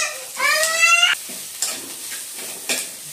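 Sliced onions and green chillies sizzle in a pan, a soft frying hiss with a few spoon scrapes, opening with a child's wailing cry nearby.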